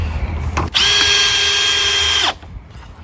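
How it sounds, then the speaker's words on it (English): A cordless drill driving a decking screw into reclaimed timber for a raised garden bed, a short, loud whining burst of about a second and a half, with brief clicks before and after. "you just screw them in"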